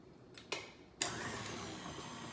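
An electric mixer on a low setting stirs milk into chocolate cupcake batter, with a couple of clicks and then a steady whirring hum that runs continuously at close range.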